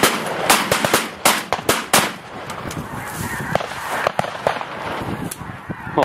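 Several sharp shotgun blasts crack out irregularly during a snow goose hunt amid loud honking and squawking geese, with a steady outdoor background.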